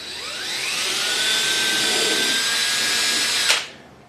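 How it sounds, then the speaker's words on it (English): A power drill with a small bit whines at high speed for a few seconds boring a pilot hole, close and loud, then spins down abruptly as the trigger is released. "I'm going to take a small drill bit and drill a pilot hole"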